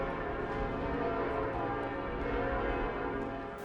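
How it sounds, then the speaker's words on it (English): The bells of Notre-Dame cathedral in Paris tolling at the reopening ceremony, a sustained, ringing wash of overlapping bell tones that stays loud and steady throughout. "the bells of Notre-Dame tolled once more, their sound cascading over the city like a benediction"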